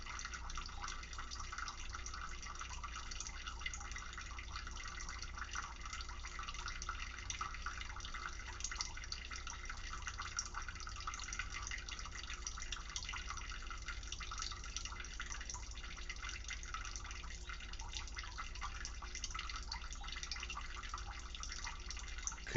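Water runs continuously from a tap, a steady, even splashing rush with faint drips, heard alone at moderate volume for the whole stretch.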